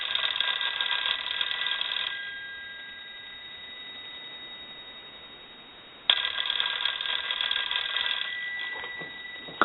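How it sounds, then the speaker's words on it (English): Bell of a Western Electric 302 rotary telephone ringing in two loud bursts, each about two seconds long, separated by a quieter pause, with no voices. "then we'll ring the unit"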